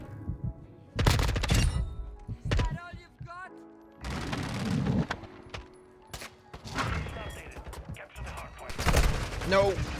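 Gunfire bursts from an M4 rifle and other weapons in Call of Duty Modern Warfare II, loud repeated volleys and shots through the match, with a player talking over parts of it.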